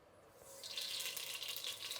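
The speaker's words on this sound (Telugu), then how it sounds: "ఆవాలు చిటాపటా చినుకుల్లాగా వాగుతూ ఉంది" Mustard seeds splutter in hot oil in a pan while cooking bisi bele bath, giving a faint, steady crackling hiss that swells after a moment and continues alone.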